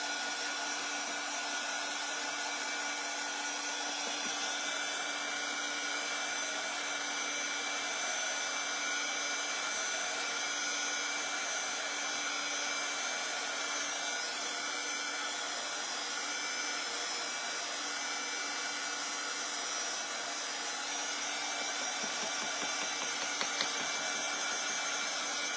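A heat tool blows continuously for about 25 seconds, drying chalk paste on a craft project; a steady, close, even whir with a faint hum and no talking.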